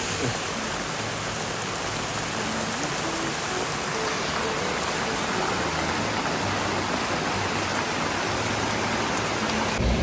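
Rain falls hard and steadily outdoors, forming an unbroken dense hiss and patter that stays at the same level throughout, with no voices.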